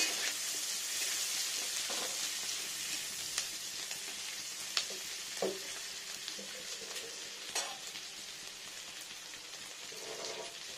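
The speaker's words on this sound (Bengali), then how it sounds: "দেখুন পেঁয়াজটাকে দিয়ে নিই, একটু ভালো করে ভাজা যাবে পেঁয়াজটা।" Onions frying steadily in hot oil in a pan, a dense close crackling sizzle with occasional sharper pops and utensil knocks throughout.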